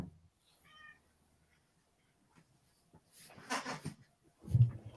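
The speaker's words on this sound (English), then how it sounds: "He's meowing now." A house cat meows a few times indoors, short faint calls separated by quiet gaps, followed by rustling and a louder thump close by.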